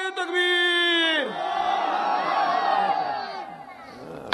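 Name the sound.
crowd shouting the takbir response at a religious gathering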